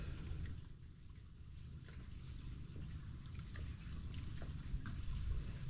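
Rain falling outdoors around a boat under repair, a soft continuous patter with low rumbling background, fairly faint and steady, no voices.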